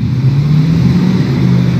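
A car engine hums close and steady with a low drone, rising slightly as it moves off.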